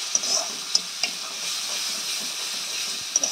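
Onion and tomato paste frying in a pan, a soft continuous sizzle and hiss with a few light utensil clicks, fairly quiet and close.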